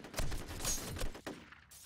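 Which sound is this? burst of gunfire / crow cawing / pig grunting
burst of gunfire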